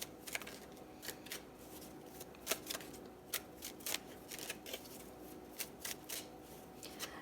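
Tarot cards being shuffled in a series of quick riffling bursts, crisp and close, with short pauses between, no talking.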